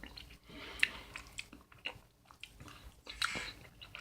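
Someone chews meatloaf close to the mic, soft wet bites and squishy mastication in an irregular rhythm, quiet and intimate with no talking.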